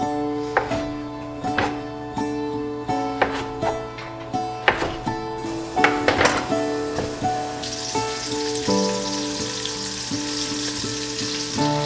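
Garlic frying in a pan for a home-cooked soup gives a steady, close sizzle, with stirring and clinking utensil taps on top and a louder hiss near the end, over a background of soft music.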